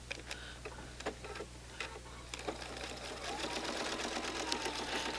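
Sewing machine stitching a quilt block, a steady close rapid ticking of the needle over a constant motor hum, loud and continuous throughout.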